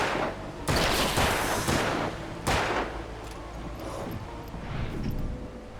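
Gunfire in the video game Alan Wake, with a few sharp, loud shots, two of them standing out, ringing over a dense layer of game noise.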